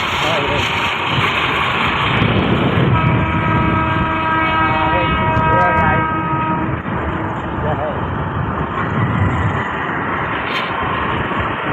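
A train rumbles past close by with a heavy continuous roar and rattle, its sustained horn tones sounding through the middle, while people talk over the noise.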